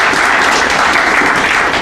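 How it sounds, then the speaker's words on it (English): Audience applause at a hotel grand opening celebration: a steady, dense wash of many hands clapping at once, loud and sustained throughout with no break and no speech over it. "So certainly give him a round of applause."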